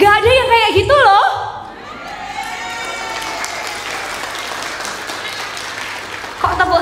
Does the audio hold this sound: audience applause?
yes